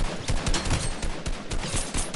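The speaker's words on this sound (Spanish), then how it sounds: "Qué bueno estamos dando tiros aquí todos." Rapid gunfire from a PS4 shooter game crackles in dense, overlapping bursts, sharp shots packed closely together at a steady, loud level with no pauses.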